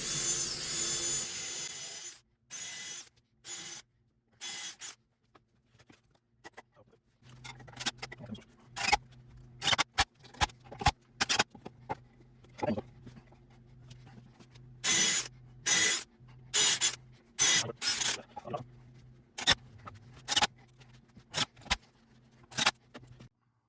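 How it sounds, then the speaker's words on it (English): A power drill whirs in a series of short bursts, pre-drilling holes in an outdoor drink table, starting and stopping repeatedly, close up with quiet gaps between each run. "Pre-drilling the holes again."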